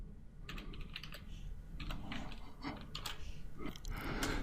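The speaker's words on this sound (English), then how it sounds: "this time I'm going to type in callback followed by" Quick, irregular clicks of typing on a computer keyboard, close and fairly loud, in short bursts of keystrokes with brief pauses between them.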